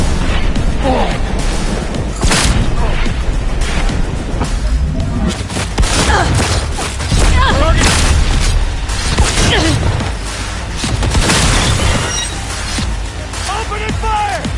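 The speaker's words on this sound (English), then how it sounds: "Opening fire!" Chaotic combat din of booming blasts and popping gunfire, loud and dense throughout, with voices shouting over the barrage.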